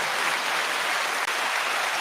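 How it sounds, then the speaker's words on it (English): A recorded applause sound effect played on a radio call-in show: a steady, dense burst of clapping, fairly loud and continuous for about two seconds, with a brief dip near the end and no one speaking over it. "I had to play that. That was a clap."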